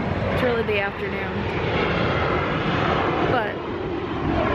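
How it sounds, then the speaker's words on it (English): Airplane passing overhead in San Diego during the afternoon, a steady broadband engine roar at moderate loudness that persists throughout, with people talking over it. "Plane."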